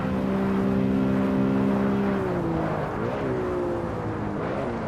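A BMW E92 M3 racing in Assetto Corsa gives a loud, steady engine drone that holds high, dips briefly around a shift or lift, then settles again, with no talking.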